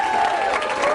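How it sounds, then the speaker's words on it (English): An audience at a network marketing event applauds Ashley, a short burst of loud crowd clapping with some cheering mixed in, close and dense, over a sustained tone. "Please give Ashley a big, big round of applause."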